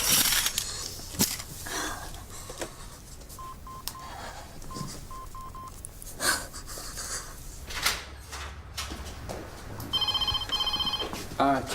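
Telephone at the Mill Health Centre reception ringing and being dialled, with repeated electronic tone bursts and keypad beeps amid office bustle, voices talking in the background.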